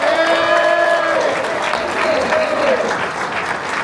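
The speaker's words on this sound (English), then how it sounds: "Ladies and gentlemen, please, a big round of applause for Sara Algrim." Audience applause at a bourbon and craft spirits conference, a dense steady clatter of clapping that fills the room with cheers and whoops over it, tapering slightly toward the end.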